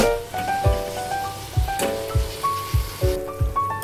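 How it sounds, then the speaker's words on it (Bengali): Chopped capsicum sizzles in a pan for paneer bhurji, with a hissing fry under repeated soft knocks and scraping of a spoon against the pan. "1 মিনিটের মধ্যে এর সাথে ক্যাপসিকামটাকে আমি একটু ভেজে নেব।"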